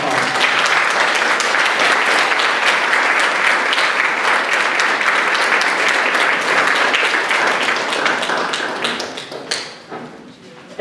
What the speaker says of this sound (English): Please, let us give her a round of applause.